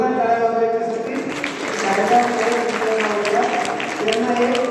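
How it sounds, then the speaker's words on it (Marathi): Loud clapping from an audience at a Gokulashtami festival at an ashram, sounding as a dense sustained patter that runs beneath tonal voice or music throughout. "जोरदार टाळ्या वाजवण्यासाठी"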